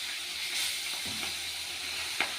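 Fish frying in a home kitchen pan gives a steady, soft sizzle with a few brief spits and crackles, close by, with no talking.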